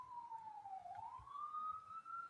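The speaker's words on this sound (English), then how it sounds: "a siren in the background" A distant police siren in New York City wails in a slow falling then rising sweep, faint and steady in the background with no one speaking.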